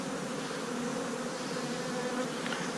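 Honey bees buzz with a dense, steady hum inside a winter beehive on a warm January day, close and continuous with no pauses.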